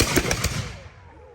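Black powder musket volley at a 1620s Gunpowder Plot reenactment event, several near-simultaneous loud reports crackling together in a quick ragged burst, then a fading echo.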